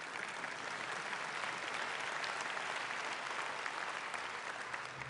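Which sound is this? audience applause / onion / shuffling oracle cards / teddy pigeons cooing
audience applause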